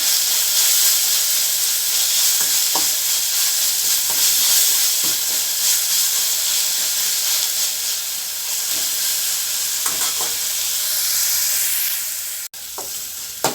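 Tomato and onion with coriander leaves and mint sauté in a hot pan for vada curry, giving a steady loud sizzle with occasional scrapes of a spatula stirring, no voices.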